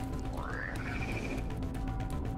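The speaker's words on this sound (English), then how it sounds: "That frog again." Frog croaking in the video game ATRIO, a single rising croak heard alone against a low game background hum, fairly quiet.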